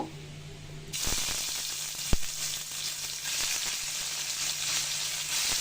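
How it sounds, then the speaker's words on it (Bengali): Taki fish hit hot oil in a pan. After a quiet start, a loud, dense sizzle bursts in and then holds steady, with one sharp clack partway through. No one speaks. "টাকি মাছগুলো ভাজার জন্য প্যানের তেল গরম করে নিয়ে এসেছি এখন টাকি মাছগুলো দিয়ে দিব"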